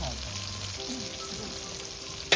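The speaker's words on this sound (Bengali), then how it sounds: "এই নাসিকের পেঁয়াজ যাচ্ছে সালনি তেলের ওপর, সাউন্ডটা দেখতে পাচ্ছেন।" Nashik onions fry in mustard oil over a wood fire, a steady close sizzle with a soft crackle throughout and a sharper pop at the very end.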